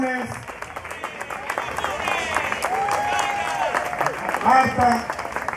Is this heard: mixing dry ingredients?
no